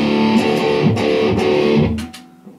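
An electric guitar through amp distortion and a Digitech Whammy DT pedal set to drop tune rings out in loud sustained chords with a few sharp strums, then fades at the end.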